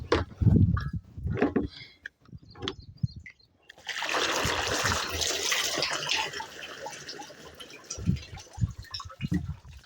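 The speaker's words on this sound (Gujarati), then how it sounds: "પંપ ભરું" Water gushes steadily into a crop sprayer pump tank on a farm, a loud continuous rushing fill lasting several seconds, with scattered knocks and handling sounds before and after.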